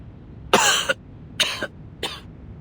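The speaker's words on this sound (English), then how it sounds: "And now I cough and splutter just like it does." Three separate harsh, spluttering coughs from a character in the video game Reverse 1999, each a short burst with a gap of silence after it, close and fairly loud.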